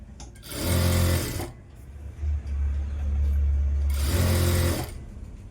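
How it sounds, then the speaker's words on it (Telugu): A sewing machine stitches a Punjabi top in two loud, close bursts of rapid whirring with a low motor hum running steadily between them. "పైనుంచి కూడా కుట్టేసుకోవాలి"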